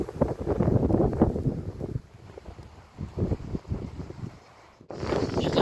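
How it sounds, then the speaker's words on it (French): Light wind gusts buffet the microphone on a hilltop plateau during a hike, rising and falling in rushing bursts with a brief lull near the end. "Vraiment agréable d'avoir un petit vent,"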